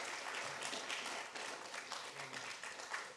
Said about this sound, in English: There one round more round of applause.